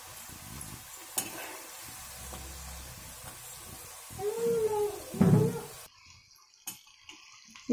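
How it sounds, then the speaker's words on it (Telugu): Potato chips fry in hot oil with a low, steady sizzle while being stirred, bringing occasional scraping and clinks and a brief louder bubbling burst. Heard up close, with no talking. "ఇలా గోల్డెన్ బ్రౌన్ వచ్చే వరకు వేయించాలి."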